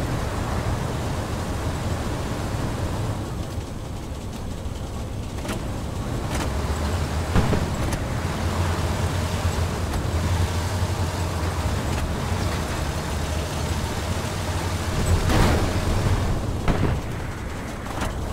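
A supply truck engine in the war game Hell Let Loose drones and revs hard while stuck, a loud continuous rumble with surging peaks and no voices.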